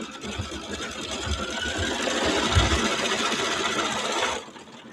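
A Viking Topaz 50 sewing machine stitches out a diamond design, a fast, even mechanical whir with rapid needle pulses, fairly quiet and close, stopping abruptly at the end.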